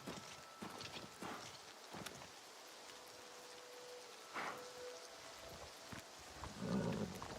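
Horse hooves clip-clop at a steady walking rhythm in The Elder Scrolls IV: Oblivion remake, moderately close, with rain pattering in the background and occasional soft hoof thuds.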